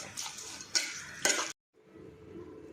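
A spoon stirs a pot of sardine fish curry with coconut in three quick scraping strokes with light clinks, then stops into a faint simmer.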